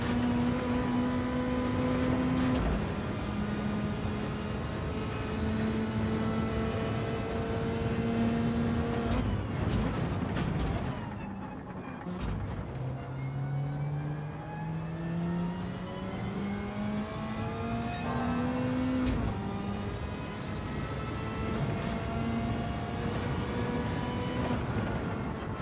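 A Group 3 racing car in Gran Turismo 7 roars continuously through the gears, engine pitch climbing steadily, then dropping abruptly at each upshift before climbing again, loud and sustained with no talk.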